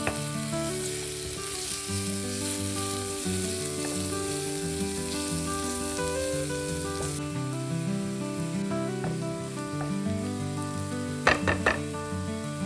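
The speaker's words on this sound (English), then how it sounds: "Cook the mushroom for about 2 minutes, stirring occasionally." Mushrooms seasoned with pepper and salt sauté in a pan, sizzling steadily and close by, with a few light stirring clicks near the end.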